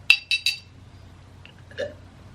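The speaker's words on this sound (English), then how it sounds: "I got hiccups again." Three quick, sharp hiccups close together at the start, followed by a softer hiccup or swallow, with faint background hum.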